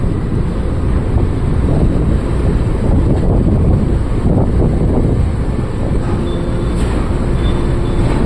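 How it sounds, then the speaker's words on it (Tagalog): Strong wind at Dangay Port, Roxas, buffets the microphone in a loud, continuous low roar, with a faint hint of water or surf underneath. "Lakas ng hangin."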